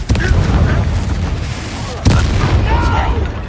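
Confringo spell explosions boom in the video game Hogwarts Legacy, with a dense rumbling barrage and a sharper blast midway over constant battle noise, while voices shout through the fight.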